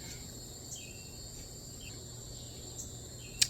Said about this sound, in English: Crickets are singing, I guess.